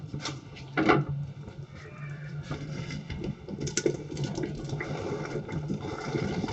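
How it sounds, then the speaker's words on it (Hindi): Mixed vegetables tipped into a simmering tomato-onion masala in a pan, giving a couple of close clattering splashes over a steady wet sizzle, with no voices. "और मैं इसमें सब्जी डालूंगी।"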